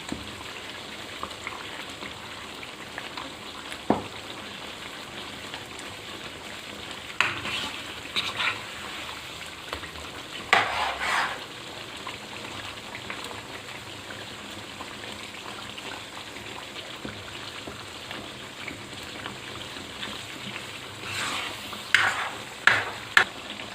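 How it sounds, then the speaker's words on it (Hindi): Tomatoes fry for a chicken Shinwari karahi while being stirred, a soft sizzle broken by scattered scraping and clinking strokes of the spoon, louder in bursts. "टमाटरों को हम साथ साथ ऐसे करते जाएंगे ताकि वो जो अच्छी तरह से मिक्स हो जाए।"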